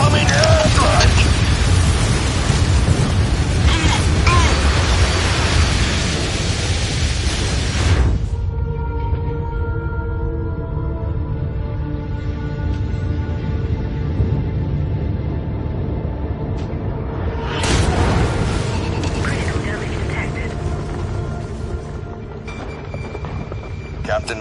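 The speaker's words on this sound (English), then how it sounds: "Incoming airstrike!" Airstrike explosions in the MechWarrior 5: Mercenaries video game land as a loud, rumbling burst for several seconds, give way to a quieter droning stretch, then erupt again in a second heavy blast.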